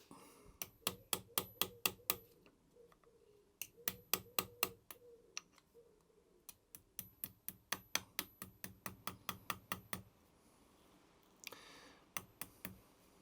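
Close, crisp metallic taps of a small hammer on the carburettor float of a Kawasaki FJ100 engine, coming in quick bursts of several strikes separated by short pauses, with a quiet workshop background.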